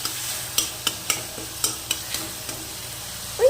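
Chopped tomatoes with a pinch of turmeric stirred in a hot pan: about eight distinct spoon scrapes in an uneven rhythm over a soft, continuous sizzle, close and clear.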